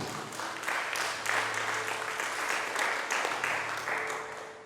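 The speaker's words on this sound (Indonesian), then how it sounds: "Tepuk tangan untuk Tuhan." A church congregation claps steadily and fairly loudly for several seconds during a Sunday service, a dense continuous patter of many hands that fades slightly at the end.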